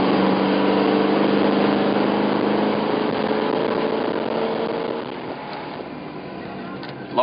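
A car engine fitted with a Street Demon carburetor roars steadily at high revs, a dense sustained drone that eases off slightly toward the end, with no talk over it.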